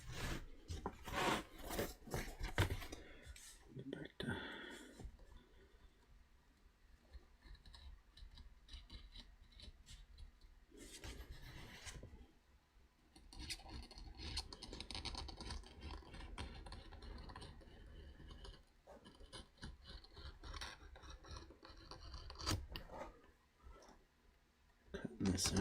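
Leather being cut by hand with a knife for a western cowboy holster, a close series of rasping, scraping strokes and small clicks, irregular in rhythm, with a voice talking over parts of it.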